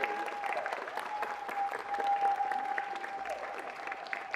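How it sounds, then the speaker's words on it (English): An audience at a city council meeting claps steadily for a few seconds in an indoor chamber, a dense, even patter of many hands that swells slightly before easing off. "Let's give him a big round of applause."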